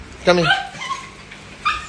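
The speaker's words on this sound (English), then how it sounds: "my dogs are going crazy" Dogs barking and whimpering nearby, a couple of sharp yips and whiny cries spaced across two seconds, loud against a quiet background.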